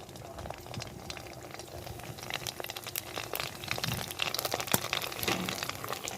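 Fuchka (panipuri) puris fry and puff in hot oil, a busy close bubbling and crackle that grows denser and louder toward the end.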